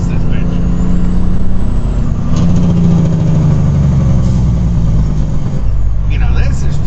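A big rig truck engine roars loudly and continuously close by, with a deep rumbling drone and slight swells in intensity; a voice is faintly present.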